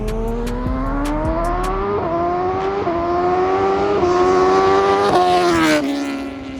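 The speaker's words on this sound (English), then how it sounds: "it is a very loud exhaust" Loud, raw engine roar of a 2020 BMW S1000RR motorcycle with a harsh SC Project aftermarket exhaust, climbing through gears with repeated upshifts and revs, close and continuous.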